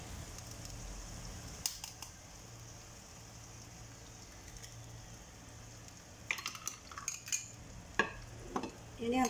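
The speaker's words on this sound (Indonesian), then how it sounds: "ini wajan saya sudah kasih minyak." Eggs with green peppers, red chili and garlic sizzle gently in an oiled wok, with a soft steady fry and a few sharp utensil scrapes and clinks of stirring toward the end.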